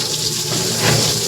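Water runs steadily during water service work at a village farm, a constant rushing splash held at an even level for the whole moment, with no talk.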